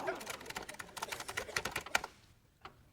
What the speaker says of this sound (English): Just type it out.